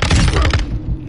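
A grenade blast in a military shooter video game, a loud, dense burst with a heavy low rumble and crackling debris, fading within about a second, with no talk over it.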